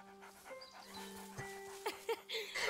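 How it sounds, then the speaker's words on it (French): Dog in the video game A Plague Tale: Innocence, giving a few short yips and whimpers over a faint game ambience with tonal music, with brief sharper sounds near the end. "Le chien. Oh, Ouais, j'adore les toutous."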